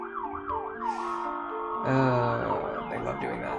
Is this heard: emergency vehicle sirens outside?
yes